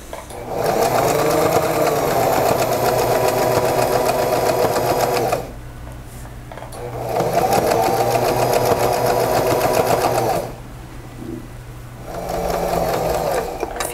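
A sewing machine stitches a border onto a dish towel in steady whirring bursts, running for several seconds, pausing briefly, then starting again, loud and close with no voices.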